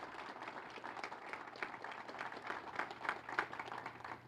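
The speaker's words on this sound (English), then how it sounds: "I'd like to give a huge round of applause to the auxiliary here at Eureka" An audience at a farmers' breakfast applauds the auxiliary who cooked the meal, a faint, distant patter of scattered hand claps that swells slightly toward the end in a large room.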